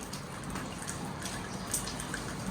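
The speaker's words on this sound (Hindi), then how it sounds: "बारिश चल रही है रात से, बल्कि कल से ही चल रही है" Rain falling steadily outdoors at a village home in Karachi, a soft continuous hiss with scattered drips and splashes, moderately quiet and without talk.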